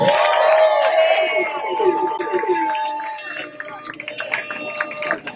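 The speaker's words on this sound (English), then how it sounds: "may we have a round of applause for the VIPs" Crowd on an annual nonprofit boat ride cheering and whooping for VIP guests, voices rising and falling in a lively mix with some clapping near the end, fairly loud and close.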